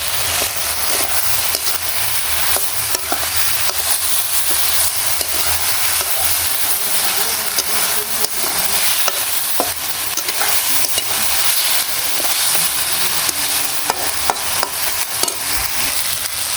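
Kochur loti (taro stolons) fry in a pan in a Bangladeshi village kitchen, giving a loud, steady sizzle and hiss broken by frequent scraping stirs of the spoon.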